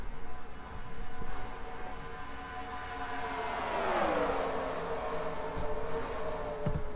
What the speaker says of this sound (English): These drivers having fun driving around this racetrack.